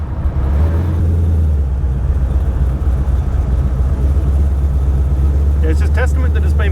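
A custom 1934 Ford three-window coupe drives with a steady, loud low engine and exhaust drone heard from inside the cabin, exhaust outlets near the back window, with a brief voice toward the end.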